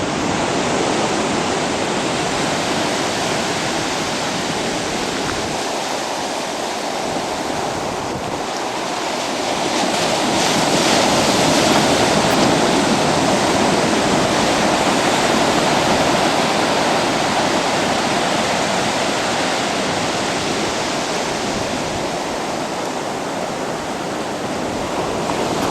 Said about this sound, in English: Some of those waves getting a little bigger now, or what?